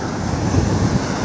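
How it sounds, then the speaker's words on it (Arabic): Strong wind roars across the microphone at a fishing beach with a high sea, a steady close buffeting rush over a broad surf wash, with no voices. "الريح عالي جدا"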